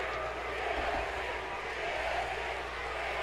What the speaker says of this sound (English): the crowd chants for your opponent